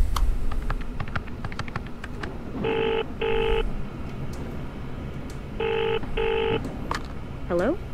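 A telephone rings loudly in a bodycam horror video game with two pairs of double electronic rings, mixed with clicking and tapping and a person talking.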